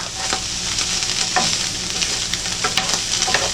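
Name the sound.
stirring gravy in a pan with a small spatula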